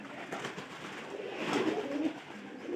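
Pigeons crowded together in a loft coo softly and continuously, several birds overlapping in a low murmuring chorus with no voices.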